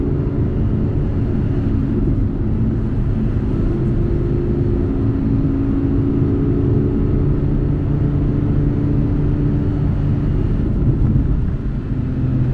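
A 2018 Audi R8 with a V10 engine while driving, heard from inside as a loud, steady low engine drone with road rumble, unbroken throughout.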